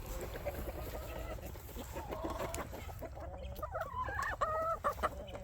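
Several chickens cluck and squawk close by in a homestead coop, crowding around a duck egg, with steady busy clucking and a few louder calls toward the end over light background noise.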